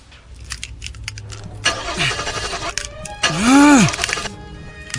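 A car engine is cranked repeatedly without catching, with jangling keys, a couple of bursts of starter whirring and a sharp rising-then-falling whine, loud and close with no talk.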